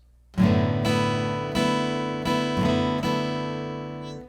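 Acoustic guitar chords are strummed, a strong first downstroke followed by several lighter, bright upstrokes on the higher strings in an even rhythm, ringing out close and clear.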